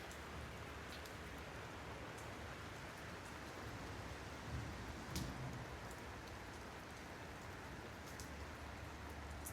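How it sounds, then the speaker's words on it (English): Heavy rain pours all around in a dense, continuous hiss of drops falling close by, with a few louder patters standing out and no speech. "Just like the intensity of the rain that's going on all around me, you can probably hear right now."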